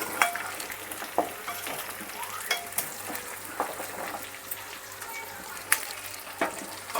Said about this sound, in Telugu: తిప్పుదాం ఒకసారి అడుగంటిద్ది